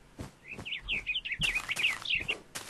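Birds chirping in a Minecraft game, a steady run of bright, close tweets and whistled calls repeating for several seconds with soft thuds beneath.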